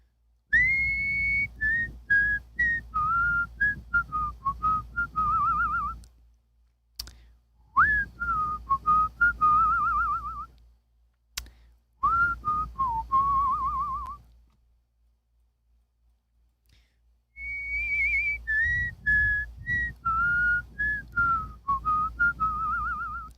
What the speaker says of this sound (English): name me a song to whistle, and I will try my best